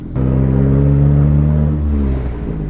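A turbocharged 4G15 engine in a Mitsubishi Lancer idles close by with a deep, steady, loud rumble and a slight dip in level toward the end.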